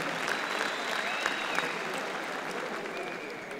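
A crowd applauding steadily, dense clapping that holds at an even level throughout with no voices standing out.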